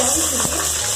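Green chilies and cardamom pods frying in hot oil for tomato bath, a dense close sizzle with a brief stir scrape in the middle of a very short moment.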